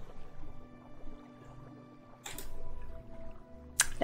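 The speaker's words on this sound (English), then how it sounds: "Completely soaked because I'm swimming." Water splashing from swimming in the Morrowind video game, with soft wet sloshes through the clip, a broader splash near the middle and a sharp, loud splash near the end.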